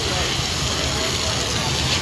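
A steady, dense roar of fire burning through straw, loud and continuous throughout, with voices talking faintly underneath.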